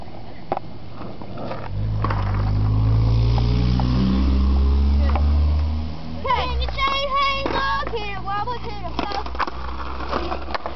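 A car passing on a street where kids ride skateboards, a swelling rumble that peaks and fades over several seconds, followed by children talking and shouting.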